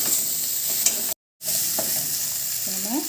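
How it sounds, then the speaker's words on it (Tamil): Dried red chillies sizzle and fry in a pan while being stirred, a steady close crackle broken by a short silent gap, with faint clinks of a utensil. "நம்ம இதில் வரமிளகாயை போடுவோம். நல்லா வதக்கிக்கலாம்."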